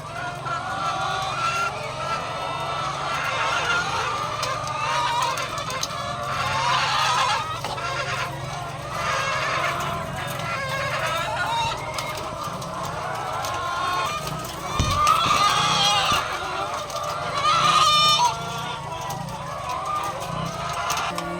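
Chickens cluck and squawk in a backyard coop at feeding time, with steady close fowl calls throughout and a few louder bursts, over a faint outdoor background.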